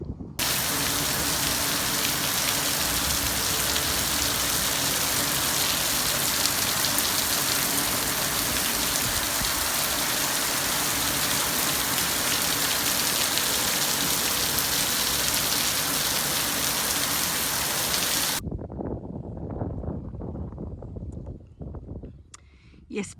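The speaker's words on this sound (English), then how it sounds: "this is the rain that they're having right now" Heavy monsoon rain in Australia's tropical Northern Territory pours down as a dense, loud, unbroken roar that cuts off abruptly near the end, leaving a quieter patch of scattered drips and knocks.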